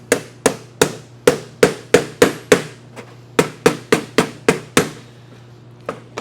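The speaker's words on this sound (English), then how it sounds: "Tapping in with a hammer is way better than trying to push against 2 sharp edges of metal." A hammer taps scrap sheet metal into a Pittsburgh seam on ductwork, a close run of about eighteen sharp metallic strikes in quick, slightly uneven rhythm, alone and loud.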